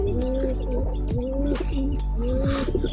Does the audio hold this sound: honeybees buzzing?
no